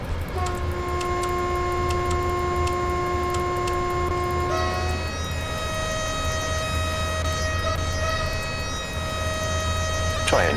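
Sustained train horns in the SimRail railway simulator, several steady tones sounding together over a low rumble of rolling stock, one chord giving way to a new set of horn notes midway, loud and continuous throughout.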